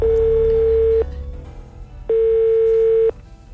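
A telephone line rings back twice while a radio station calls a listener, each steady tone lasting about a second with a one-second gap, loud and alone on the line.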